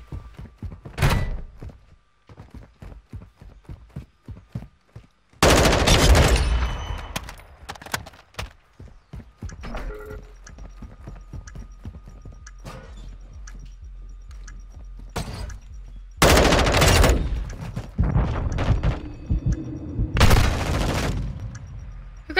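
Bursts of gunfire from Call of Duty Modern Warfare multiplayer: rapid sharp shots and loud heavy fusillades, some close and booming, others sparser and lighter, spread throughout with brief pauses between volleys.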